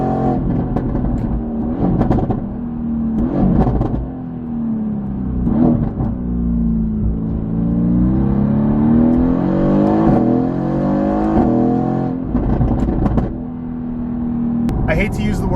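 A Mercedes-AMG GT R fitted with an $8000 Fi exhaust system, valves open, revs hard through downshifts: loud, close engine roar rising and falling in repeated blips with crackling bursts, with a voice talking over it.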